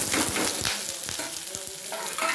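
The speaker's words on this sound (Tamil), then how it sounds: "இப்போ குழம்பு தாளிக்கிறதுக்கு எண்ணெய் ஊற்றிருக்கேன்" Onions sizzling in hot oil as a tempering for pumpkin curry, with a steady close frying hiss broken by a few stirring clatters and no talk.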